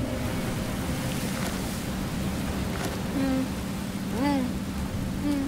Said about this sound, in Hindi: तूफान बहुत तेजी से आ रहा है।